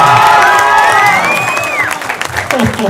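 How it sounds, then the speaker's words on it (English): A convention crowd at FAN X Salt Lake City cheers and applauds loudly and steadily, with whoops rising over a dense wash of clapping from start to finish. "One more round of applause for Asher."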